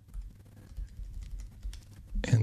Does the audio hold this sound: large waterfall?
no